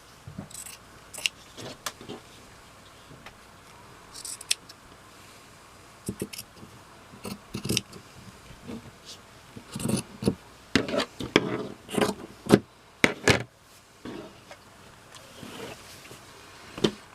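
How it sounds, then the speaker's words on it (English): Scissors trimming excess fabric from a patched dickie collar, a scattered series of short crisp snips and rustles that grow denser toward the end, close and quiet with no talk. "I'm just going to trim away that excess fabric"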